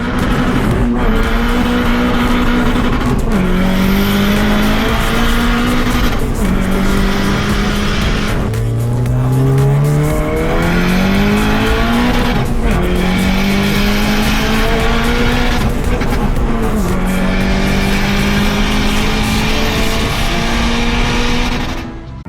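A homemade crotch-rocket three-wheeler cruises along with its engine droning loud and steady, the pitch rising and dropping through repeated shifts and throttle changes.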